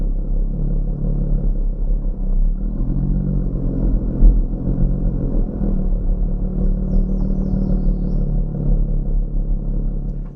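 A Lotus Evora 400 drives in sport mode, its engine a loud, steady low rumble that swells briefly with a throttle surge midway, heard from the cabin without any talking.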